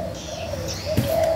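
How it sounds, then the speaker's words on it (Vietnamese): Bird calls used as lures for bird trapping, soft cooing and chirping notes layered over a steady background drone, moderately close. "Mấy con chim giả nghe nè."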